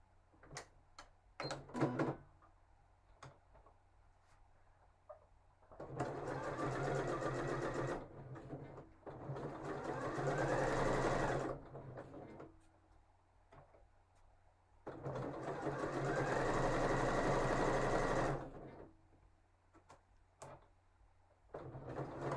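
A sewing machine runs a long straight stitch at length 5 in three sustained bursts of steady whirring and needle clatter, separated by quieter pauses that hold clicks and handling noises.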